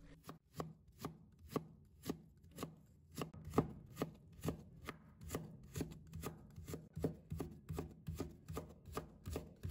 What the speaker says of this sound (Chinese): 最后切成胡萝卜丁。